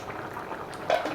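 Mutton semi gravy boiling in a covered pot, a soft continuous bubbling and simmering hiss with a brief louder burst near the end, heard alone at close range.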